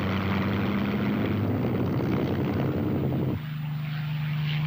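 A Spitfire propeller aircraft flying in Australia, a loud droning engine with a sustained steady hum that shifts in pitch partway through as it passes.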